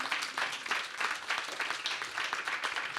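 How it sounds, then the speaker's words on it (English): Audience clapping at the closing remarks of a two-day event, a steady dense wash of applause that holds at an even level throughout with no voices on top. "Okay, continue clapping, continue clapping."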